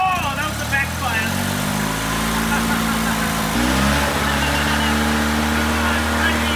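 Engine running on cheap Bunnings-brand fuel just after a backfire, a steady mid-pitched rumble with a brief rev partway through, loud and close, with people talking over it.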